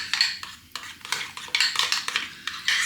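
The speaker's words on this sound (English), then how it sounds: "And then just keep mixing it until it's how you want it" Peri-peri mayonnaise mixed with a spoon in a bowl, a run of quick clinking scrapes and taps in an uneven rhythm, close and clear with no talking.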